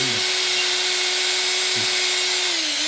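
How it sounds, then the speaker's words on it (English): A Makita DHP458 two-speed brushed cordless drill runs steadily at close range with a constant whine, the motor pitch dipping briefly near the end, no talk over it. "This is the big 2-speed Makita brushed machine"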